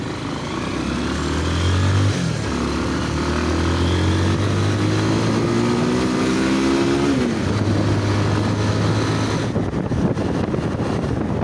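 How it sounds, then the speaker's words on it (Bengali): A repaired motorcycle's engine runs steadily while being ridden, its hum rising and falling through gear changes with wind noise over the microphone, continuous and fairly close. "চালা ভালোই লাগতেছে গাড়ির সাউন্ডটা।"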